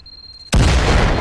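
A grenade detonates in the virtual-reality shooter Firewall Zero Hour: after a quiet moment, one sudden, loud, close blast erupts and its heavy rumble fills the rest of the moment.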